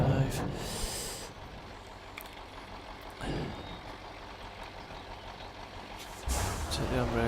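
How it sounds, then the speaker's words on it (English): A logging truck in the Spintires game hisses as its air brake releases, followed by a steady low engine rumble as it backs up, with reversing beeps and a few short hisses. "Take the handbrake off. Let's reverse it."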